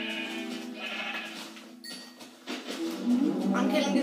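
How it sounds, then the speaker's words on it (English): Sheep in a survival video game bleat repeatedly, several wavering calls close by, with a brief gap mid-clip before louder bleats resume alongside other game sounds. "I'm killing as many sheep as possible."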